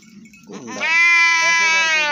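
Goat giving a loud, sustained bleat up close, rising after a brief lead-in and holding steady, during injections being given to goats on a farm.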